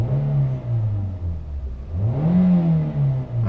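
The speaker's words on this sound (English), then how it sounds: "let's give her a couple of revs here" A Toyota Matrix engine, after engine mount repair, revs up and down, its pitch rising and falling in a couple of close, loud, steady swells.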